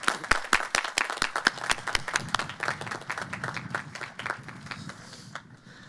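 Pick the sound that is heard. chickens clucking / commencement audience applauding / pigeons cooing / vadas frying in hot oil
commencement audience applauding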